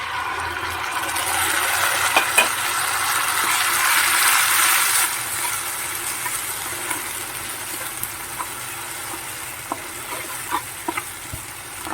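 Ground spice paste sizzles with browned onions in a pan as it is stirred, a steady hissing fry with occasional clicks of the spoon. The sizzle is loudest early, then eases to a quieter simmering crackle, with no voices.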